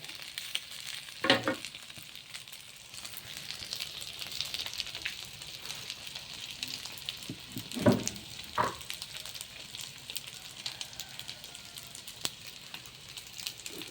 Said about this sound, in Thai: ผัดข้าว ไม่มีต้นหอมไม่มีอะไรนะ เพราะว่า ใส่แต่กระเทียมแล้วก็ไข่